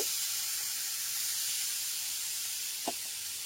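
Water added a little at a time to semolina in a hot pan for spicy suji gives a steady, fairly loud hiss and sizzle throughout, with one brief soft knock near the end and no talk.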